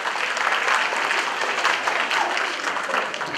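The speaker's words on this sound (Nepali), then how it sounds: "अलिक जोरदार दर्शक ताली बजाइदिनु होला" An audience at a Buddha Jayanti celebration in 2011 breaks into loud, sustained applause, with dense clapping that holds steady throughout.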